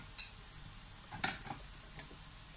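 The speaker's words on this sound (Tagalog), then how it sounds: "So, ito na nag-brown na po ang ating pork. Ayan. So, hahaluin po muna natin ito." Browned pork in a pan for sitaw and kalabasa is stirred with a utensil, giving a few quiet scrapes and clinks over a faint sizzle, all soft and close.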